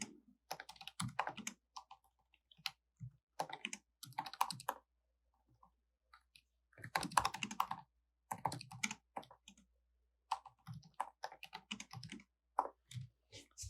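Bursts of typing on a computer keyboard, quick clusters of light key clicks separated by short pauses, close and fairly quiet.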